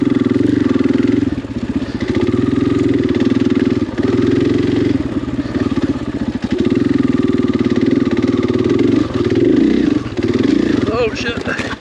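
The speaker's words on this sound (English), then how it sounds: "KTM 500 on some tight single track." A KTM 500 XCF-W dirt bike rides tight, rooty single-track trail at Stonyford OHV, its engine loud and close throughout with constant throttle changes and revving, a few brief dips in load, and a rider's voice audible over it.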